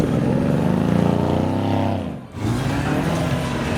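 A turbocharged 2020 Morgan Plus 4 revs its engine at a car meet start line, a loud, sustained throaty drone that dips sharply for a moment and then surges back, close by amid crowd noise.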